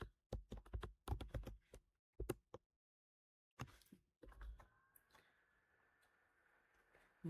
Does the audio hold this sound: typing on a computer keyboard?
yes